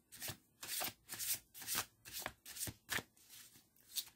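A deck of playing cards is shuffled and cut repeatedly, giving about eight crisp riffling bursts in a steady rhythm, close and fairly quiet, with no talking.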